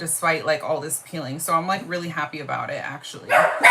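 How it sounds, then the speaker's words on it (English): Several dogs bark indoors, fretting at a passing ambulance outside. Short yips and barks come in scattered bursts, mostly buried under someone talking steadily nearby. "excuse my dogs, I think they're getting freaked out because they hear an ambulance outside"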